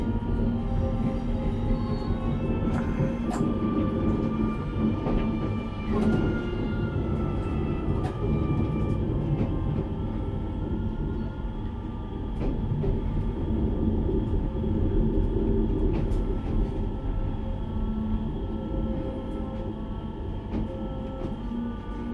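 An X61 electric train in a Gothenburg depot accelerates after a wash, giving a sustained rumbling drive with steady motor tones and occasional rail clicks, loud and continuous with no talk.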